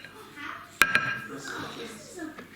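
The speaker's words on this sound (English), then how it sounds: "Just a little mix with a wooden spoon for this." A wooden spoon stirs tandoori chicken ingredients in a bowl, giving a couple of sharp knocks and soft scraping under a person talking nearby.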